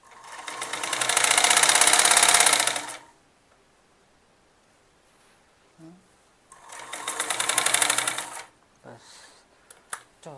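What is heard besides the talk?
sewing machine stitching a kurti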